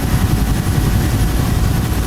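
UH-1 Huey helicopter in the DCS flight simulator game, heard as a loud, steady, low engine and rotor drone that stays constant throughout, with no one speaking.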